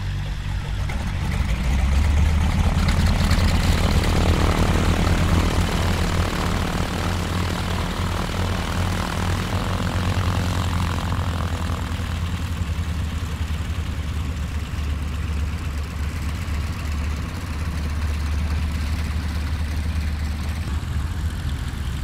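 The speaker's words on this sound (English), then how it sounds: "There's a plane out there prepping." A propeller aircraft engine runs steadily on an airfield used for private aviation, a loud, continuous droning roar with a low throbbing hum that holds for the whole stretch.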